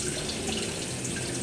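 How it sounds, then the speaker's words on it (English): Tap water runs steadily over a glass jar of homemade hand soap as it is rinsed in a sink, a close, continuous splashing rush with no voices. "Let me rinse this off and I'll show you guys."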